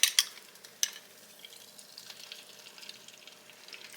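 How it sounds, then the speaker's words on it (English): Egg frying in hot butter in a small 6-inch iron skillet, a soft continuous sizzle and crackle with a few sharp pops at the start, close and quiet, no talking. "my butter is hot and ready in this skillet over here to cook my egg. So let's get that poured in."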